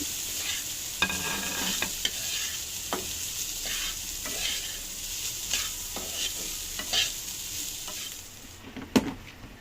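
Spiced rice is stirred and fried in a pan, with a steady sizzle under repeated scraping strokes and a sharper clank near the end.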